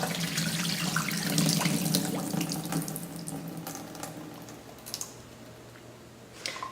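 Water pours and drains off fresh cranberries into a sink, a steady rushing splash that is loudest at the start and then thins to trickles and a few sharp drips near the end, with no talking.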